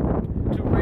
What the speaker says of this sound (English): that is a lot of wind